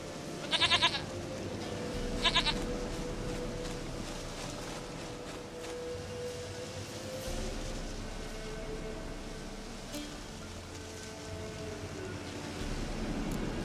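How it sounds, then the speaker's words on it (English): A goat bleats twice in The Witcher 3 video game, two short near cries at the start, then a steady game ambience of low wind-like noise with faint scattered ticks continuing to the end. "Goat of mine, dearest, sweetest goat."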